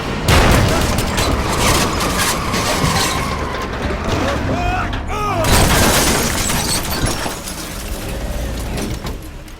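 Gunfire in the Monaco heist video game, rapid bursts of shots layered with booms, crashes and mechanical clatter, loud and dense throughout with game sounds piling on top of each other.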